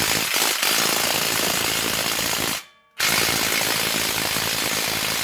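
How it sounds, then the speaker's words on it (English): A ratchet fitted with a universal joint loosening a bolt on a Jeep JK during a brake pad and rotor job, giving dense rapid clicking that runs nearly continuously, breaks off briefly for a moment of silence, then resumes just as busily. "You can get your ratchet in carefully with that universal joint."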